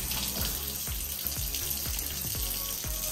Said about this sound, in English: I've rinsed the cup labeled original filter with the RO water, and we're gonna fill it up about halfway.